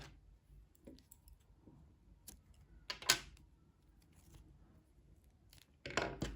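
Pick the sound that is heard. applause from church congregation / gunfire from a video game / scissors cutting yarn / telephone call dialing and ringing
scissors cutting yarn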